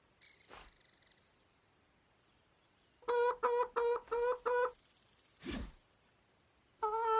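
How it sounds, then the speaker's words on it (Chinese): Cartoon hen clucking loudly in a train station, a run of five sharp harmonic clucks mid-clip and another at the end, separated by quiet gaps and a couple of brief thumps. "这不是我爸的小母鸡吗？"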